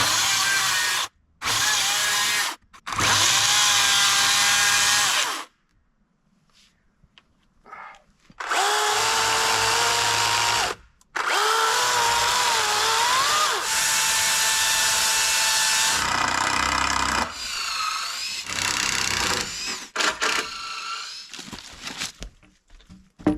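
Chainsaw notching wood for a log handrail on a woodshed build, revving in several loud bursts separated by short pauses, with the engine pitch rising and falling as the chain cuts.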